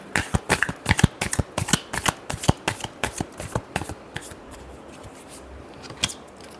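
Tarot cards being shuffled by hand in a rapid run of crisp riffling flicks that thin out toward the end, close and fairly loud, with no talk.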